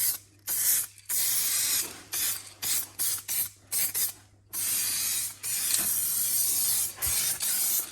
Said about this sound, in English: I'm just gonna spray paint this a little quick.